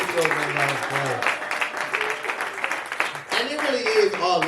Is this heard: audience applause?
yes